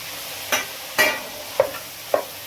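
Capsicum frying in a pan for egg pasta, with a soft sizzle broken by four sharp scraping stirs spaced about half a second apart, close and fairly loud.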